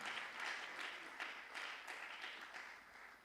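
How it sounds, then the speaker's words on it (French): A church congregation claps in a brief, fairly faint burst of rhythmic applause during a sermon. "J'aimerais qu'on acclame la parole du Seigneur."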